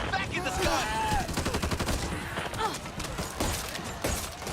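M44 rifle fired in the Back 4 Blood shooter game, a loud burst of rapid, closely spaced shots ringing out, with a voice briefly audible underneath.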